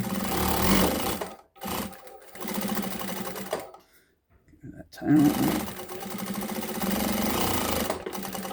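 A Sewtech SW-1968-L sewing machine stitching through thick folded layers of material, running in loud, fast, steady mechanical bursts with two brief stops between runs.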